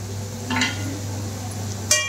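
Metal pots and utensils clink against a new kadhai in a home kitchen during meal prep, two or three short bright clanks over a steady low hum, no talking.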